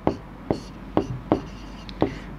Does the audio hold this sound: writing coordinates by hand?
yes